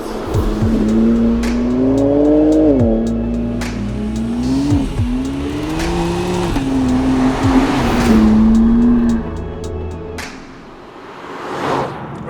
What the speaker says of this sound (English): BMW has gone and made its own version, with this, the M2 CS